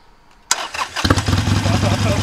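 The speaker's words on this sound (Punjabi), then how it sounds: "ਸਟਾਰਟ ਹੋਊਗਾ ਇਹਦਾ ਇੰਜਣ ਦੇਖੋ।" A Harley-Davidson Iron 883 motorcycle engine cranks and fires abruptly, then settles into a loud, close, throbbing idle rumble, with people talking over it.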